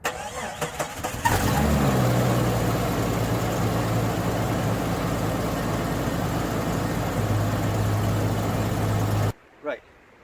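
A car engine that sat unused for months cold-starts: a brief stuttering crank, then it catches and settles into a loud, steady idle, close by, before shutting off abruptly near the end.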